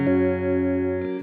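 A Boss RV-3 digital delay and reverb pedal sounds a steady, sustained harmonic tone with a warbling, shifting tail as its delay times are switched, ending in a brief burst of noise.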